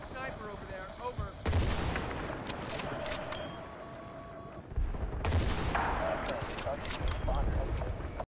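Sniper rifle shots in Modern Warfare 2, two sharp, heavy cracks several seconds apart, each followed by a long, ringing echo tail, loud and close amid game ambience and radio-like voice chatter.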